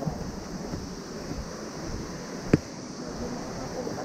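Strong rushing river water near a dam, a steady broadband roar that stays loud and constant, with one brief knock partway through and no talking.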